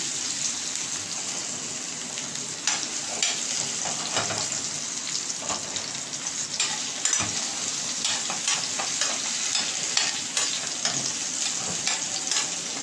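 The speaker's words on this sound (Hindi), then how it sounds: "और ये हरी मिर्ची डालेंगे जो मसाला भरी थी तेज़ी से इसको हिलाएंगे" Masala-stuffed green chillies with ginger frying in hot oil, a dense constant sizzle with quick, frequent stirring scrapes, loud and close throughout.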